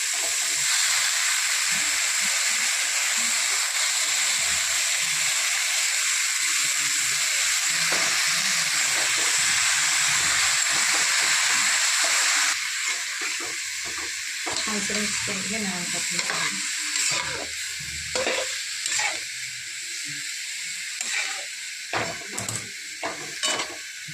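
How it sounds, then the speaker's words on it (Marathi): A steady, loud sizzle of oil with green chili paste in a hot pan gives way to clattering and stirring as chopped dill greens go in, and the frying hiss quiets into intermittent scraping. "आता आपण भाजी टाकूया"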